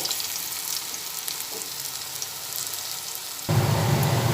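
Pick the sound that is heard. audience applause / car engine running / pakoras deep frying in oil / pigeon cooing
pakoras deep frying in oil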